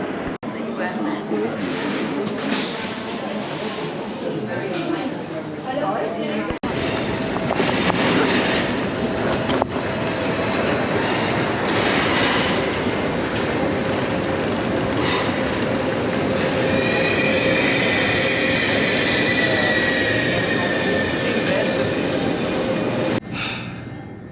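A train rumbles through Gare du Nord station in Paris, loud and close, with steady rolling noise, squealing wheels building in the second half and voices underneath.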